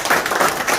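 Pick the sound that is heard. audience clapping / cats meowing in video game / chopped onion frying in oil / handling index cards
audience clapping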